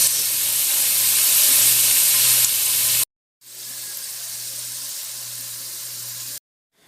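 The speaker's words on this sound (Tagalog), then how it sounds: "Iprito ang patatas" Potatoes sizzle in hot oil while pork caldereta is cooked: a steady, loud, close frying hiss that runs in two stretches, each cut off by a brief silence.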